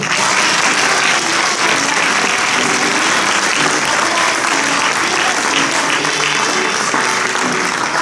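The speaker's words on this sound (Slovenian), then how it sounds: "Aplavz za Lamberšek." A concert audience applauds loudly for a choir conductor at a charity school concert, a thick, continuous wall of clapping lasting the whole stretch, close and even, with faint voices mixed in beneath.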